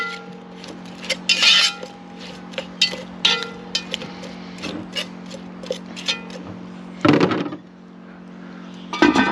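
Ingredients and a generous pour of olive oil are stirred in a bowl while preparing fish and chips, with a utensil clinking and scraping against the bowl in irregular taps and a couple of louder clatters, close and alone.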